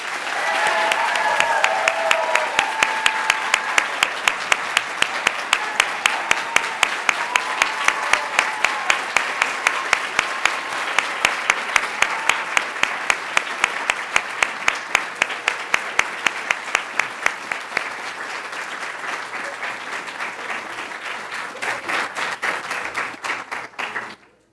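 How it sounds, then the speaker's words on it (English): A graduation ceremony crowd gives sustained applause for a retiring visual art teacher, a dense, loud wash of clapping lasting over twenty seconds with a few voices cheering early on, tapering at the end. "So let's all give her a round of applause"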